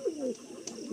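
A pair of red-tailed pigeons in a loft coo briefly, one warbling, throaty call up close followed by softer murmuring.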